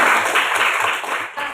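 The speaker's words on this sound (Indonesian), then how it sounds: "Tepuk tangan." Classroom students give a short burst of clapping, a dense steady patter of many hands lasting about a second and a half before tapering off.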